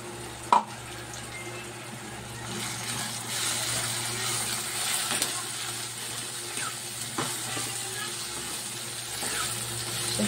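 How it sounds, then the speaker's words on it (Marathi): Peanuts sizzling and stirred in a pan with browned onion and tomato, a steady frying hiss with occasional scrapes and clinks of a spoon, close up and continuous. "शेंगदाणे व्यवस्थित परतून घ्यायचे."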